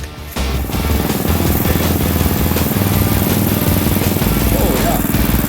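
A dirt racing kart with a small, light chassis and a GX 200 engine runs loudly and close, a steady buzzing, throbbing drone that holds for several seconds with no break.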